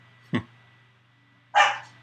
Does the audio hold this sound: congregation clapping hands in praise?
no